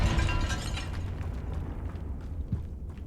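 A Confringo fire spell explodes in the Hogwarts Legacy video game inside a tomb. A loud burst at the start rumbles and fades over about three seconds, with a small thud near the end.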